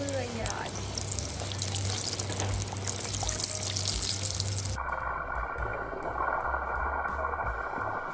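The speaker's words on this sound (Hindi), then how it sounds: "तेल टपक रहा है, वो तेल में बनी है अभी" Oil dripping and sizzling while frying in a home kitchen, a steady crackling hiss that changes tone partway through, with a voice faintly in the background.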